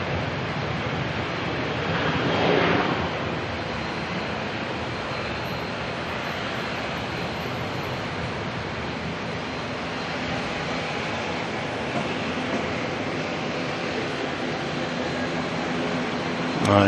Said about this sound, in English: There goes that ASL freighter heading on down to Christchurch.